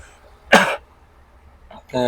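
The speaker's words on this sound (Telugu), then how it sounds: "దగ్గు వస్తుంది బాగాలేదు" A single harsh cough bursts out, loud and close, followed after a pause by a voice starting to speak.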